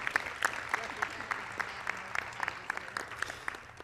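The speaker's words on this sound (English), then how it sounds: "So please give them a round of applause as well." A small gathering at a county shoe and sock drive event gives a quiet round of applause, with sparse, distinct individual claps sounding fairly distant over a low room murmur.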